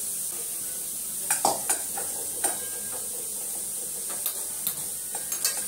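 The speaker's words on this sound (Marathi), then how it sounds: "इकडे भाजून घेते कांदा" Onions roast in a pan under an even high hiss, while a spoon scrapes and clinks against the metal in irregular bursts, some in quick pairs, close and clear.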